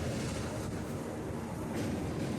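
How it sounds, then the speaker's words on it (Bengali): A local train running on the Kolaghat rail bridge over the Rupnarayan river, heard from on board as a steady, loud rumble and clatter of wheels throughout. "এখন আমাদের ট্রেন চলে এসেছে কোলাঘাট ব্রিজে"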